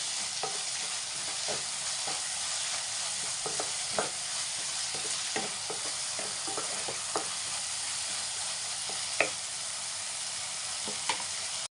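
A spoon stirs meal maker and potato kurma in a pan over steady frying sizzle, with scattered soft scrapes and knocks against the pan throughout.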